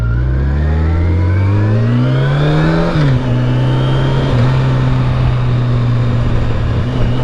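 A sport touring motorcycle, such as a Yamaha FJR1300 or Honda ST1300, revs hard under acceleration while being ridden, its engine tone rising steadily before a brief dip and then holding a loud, steady drone with wind noise throughout.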